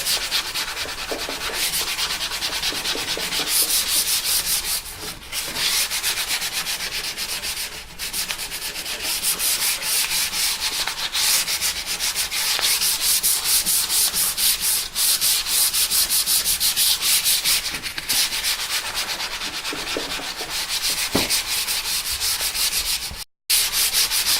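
Electric guitar body being sanded by hand with 150 and 180 grit sandpaper, steady continuous rubbing strokes close up, rhythmic and unbroken for the whole stretch, with no voices.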